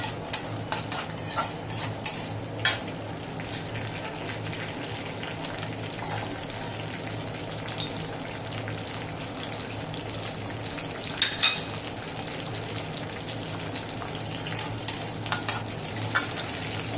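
Garlic and green chillies frying in a pan for a village-style Bengali dish, a continuous soft sizzle with occasional scrapes and clinks of stirring, close and without talk.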